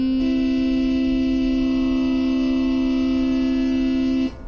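A sustained Ga note at an 81/64 ratio held over a tanpura drone, a steady pure tone with rich overtones ringing evenly for about four seconds before stopping abruptly.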